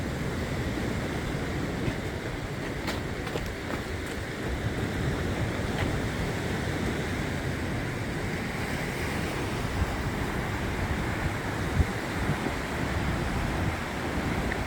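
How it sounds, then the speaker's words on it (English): Ocean surf at Bondi Beach in Sydney, Australia: a continuous low roar of waves breaking and washing in, with wind buffeting the microphone and no voices, steady and fairly distant. "I think there's some surf."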